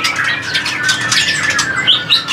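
Continuous bright chatter and squawky whistles of a female white-rumped shama from Bahorok, close and fairly loud, with no pauses over a couple of seconds.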